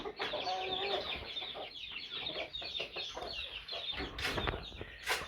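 Pet backyard chickens cluck and chatter in a series of irregular, fairly close calls, with a few sharper squawks toward the end, against quiet outdoor background noise.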